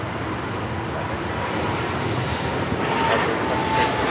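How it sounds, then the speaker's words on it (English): An Eva Air Boeing 777-300ER takes off, its engines giving a loud, continuous roar that swells slightly toward the end, with no talk over it. "This is Eva Air Flight 5 taking off to Taipei on the 777-300ER."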